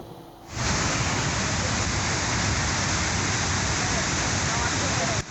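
Heavy rain pours down in Brebes, Central Java, as a dense, steady roar that starts abruptly and holds loud and unbroken to the end.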